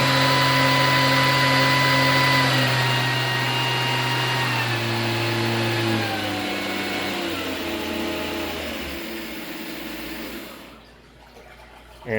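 A PM-940M CNC mill spindle whines at high speed, a loud sustained tonal hum whose pitch shifts as the speed changes, then winds down near the end.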